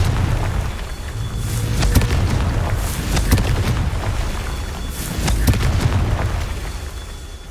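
Confringo spell blasts in a Harry Potter-style video game, a dense run of heavy booms and crackling bursts rolling continuously without pause.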